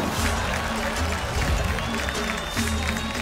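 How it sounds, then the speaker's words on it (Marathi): A studio audience on a Marathi women's game show claps for the first-place winner, a steady, dense wash of applause filling the whole stretch with crowd noise. "एकदा जोरदार टाळ्या झाल्या पाहिजे."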